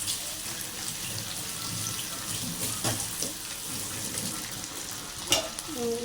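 A pot of Tamil-style fish curry cooking on the stove, with steady bubbling and frying crackle throughout, a few clinks of utensils, and faint water-like splashing in the background.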